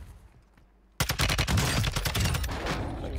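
Rapid bursts of gunfire in Call of Duty Modern Warfare erupt abruptly after a quiet moment, a loud, dense string of close shots continuing to the end.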